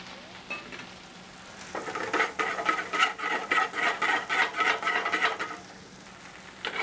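Lobster mushroom pieces sautéing in butter make a busy, crackling sizzle that swells in the middle and then eases. The rapid popping bursts are fairly close, with no talking over them.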